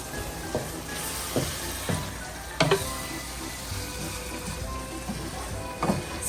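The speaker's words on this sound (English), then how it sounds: "we're gonna mix this mixture in also and let the tomato paste kind of dissolve into our meat mixture" Tomato paste stirred into a sizzling meat mixture in a pan, a steady soft sizzle with scattered scraping and clinking strokes of a utensil against the pan, close and fairly quiet.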